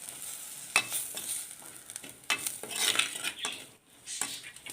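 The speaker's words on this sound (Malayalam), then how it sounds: "ഈ പൊടികളൊക്കെ ഒന്ന് മൂത്ത് വരണം." Turmeric, chili and coriander powders roasting in a pan for a sardine curry, irregular metal spoon scrapes against the pan over a light sizzle, close and alone.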